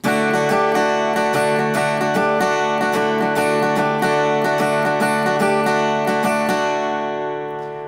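Steady strummed acoustic guitar chords of a song intro ring out loud and close, a continuous rhythmic pattern that fades slightly at the very end.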